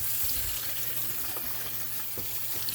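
Hot water runs steadily from a tap over a K&N air filter, a continuous broad rushing splash with a low hum beneath, close and unbroken throughout.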